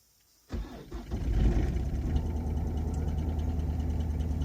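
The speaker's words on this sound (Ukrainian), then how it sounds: "Моторчик бубонить, понятно." An Opel Zafira 1.7 CDTI diesel cranks and fires from a cold start after a short silence, then settles into a steady, close, rumbling clatter at idle.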